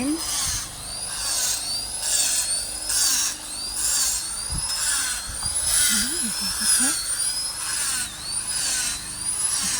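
A power drill boring holes in garden soil for planting oaks whines in repeated rising bursts, fairly close, with scraping and occasional faint voices underneath.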